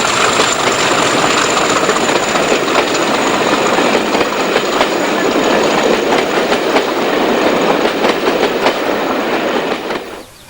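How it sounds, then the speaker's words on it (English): A British Rail Class 50 diesel locomotive hauls a train past Wilton on its final working to Exeter, a loud, close, steady roar with rhythmic clattering of wheels that fades sharply at the end. "And the very last working back to Exeter, complete with headboard, passes Wilton."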